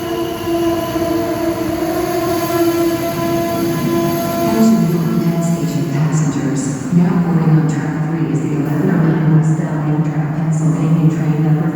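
Amtrak Vermonter train sitting at a station platform, with a steady rumbling, humming drone and a brief squeal of wheels partway through, while a boarding announcement plays over it.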